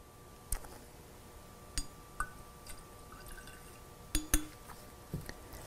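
Sparse metallic clinks and small drips as a teaspoon measures vintage amber lacquer tint into a glass jar, isolated sharp taps spaced apart in a quiet room.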